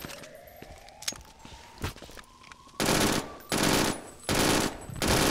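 Automatic gunfire in the shooter game BRINK: scattered single shots at first, then four loud sustained bursts of rapid fire in quick succession, close and dominant.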